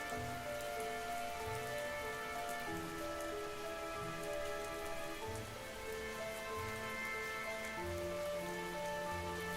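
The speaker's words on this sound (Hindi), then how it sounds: "इस बारिश को अभी ही आना था।" Steady rain pours down, a dense continuous patter on surfaces with scattered drops, constant and fairly close throughout.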